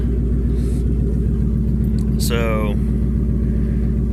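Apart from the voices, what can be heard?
FML 250 engine running with exhaust cut off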